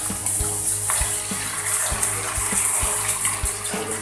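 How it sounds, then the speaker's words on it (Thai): Yanang herbal juice pours into a cooking pot in a steady, close splashing stream that runs on for several seconds with no one talking. "มาเอาน้ำยานางใส่เนาะน้ำสมุนไพรใส่ก่อน"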